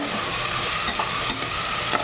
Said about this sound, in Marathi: त्यांना पण छान तेलामध्ये आपल्याला तळून घ्यायचं आहे